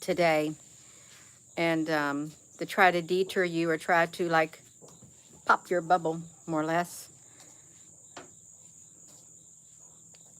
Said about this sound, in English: you might hear some crickets in the background